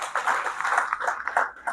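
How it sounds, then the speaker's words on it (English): Audience applause at a student association swearing-in and awards night, a dense wash of many hands clapping together at moderate volume, steady throughout. "Let's clap for them."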